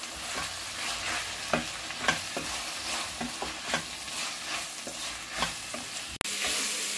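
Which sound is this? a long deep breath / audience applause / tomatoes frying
tomatoes frying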